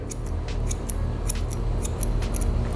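Hair scissors snip repeatedly in quick, light, close bursts while trimming a woman's mid-length Korean-style haircut into a curved line.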